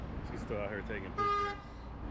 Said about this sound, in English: I thought they was honking at me